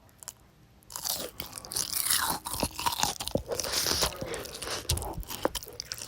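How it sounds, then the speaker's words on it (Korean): Loud, close crunching as someone bites into crispy fried eel, followed by several seconds of steady crunchy chewing with no talking. "장어 튀김 먹는 소리 한번 들려드릴게요."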